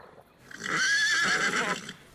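A horse neighs loudly in a whinny lasting over a second, set in a told Chinese folk tale about brocade, with no talk over it.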